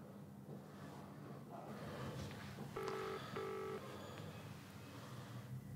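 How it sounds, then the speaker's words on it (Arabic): A mobile phone rings with two short electronic tones in quick succession, moderately clear over a steady indoor hum and faint breathing, with no voices. "مامي موبايل عم يرن."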